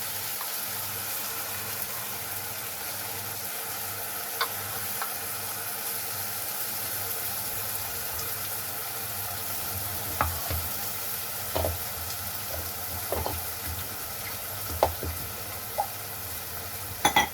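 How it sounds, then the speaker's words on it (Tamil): Onions frying with ginger garlic paste in a pan for mutton curry give a steady close sizzle, with a few sharp scrapes and clinks of a spoon stirring toward the end. "வெங்காயம் வதங்கி பார்த்தீங்கன்னா நம்ம வந்து இஞ்சி பூண்டு பேஸ்ட்டை சேர்த்துக்கலாம்"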